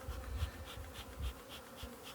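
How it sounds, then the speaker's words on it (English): Honey bees flying around an open beehive during heather honey collection: a steady, soft buzzing swarm with fluctuating drones from several insects passing close, fairly faint and alone. "I don't want bees dropping in the wet grass"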